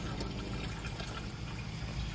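Water runs steadily from a tap into a jug for garden watering, a close, continuous splashing fill without breaks.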